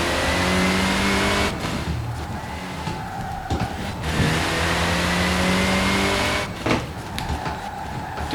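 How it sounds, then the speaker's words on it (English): A rally car on a mainland stage revs hard with engine tones rising and falling through gear changes, tyres screeching on corners, loud and close with brief dips as it lifts off between bursts. "Doing a lot of screeching."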